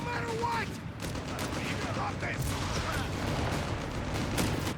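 Battlefield gunfire from the real-time strategy game Company of Heroes 3, with German troops in combat: dense rattling small-arms bursts and scattered shots under a rumbling background, moderately distant, with a voice talking faintly over it.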